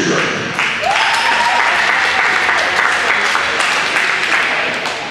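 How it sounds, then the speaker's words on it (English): Crowd applause at a Kilsyth versus Knox sports event, loud sustained clapping that fills the whole stretch without a break, close and dense, with no talk over it. "a big round of applause"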